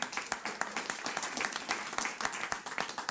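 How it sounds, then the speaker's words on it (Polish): Audience applause at a comedy roast, dense rapid clapping from a crowd filling the whole stretch at steady loudness, with no voices over it. "wielkie brawa dla Jaśka, bardzo fajny występ."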